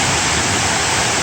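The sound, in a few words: waterfall at Mayo River State Park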